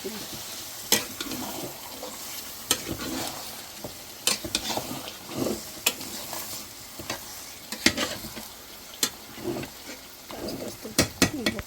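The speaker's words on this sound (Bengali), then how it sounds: "এই হলো ইলিশ মাছটা ভাজা নিতেছি" Hilsa fish fries in a hot pan, a low sizzle punctuated by repeated sharp scrapes and clinks of a spatula stirring, irregular strokes spread across the stretch with no talking.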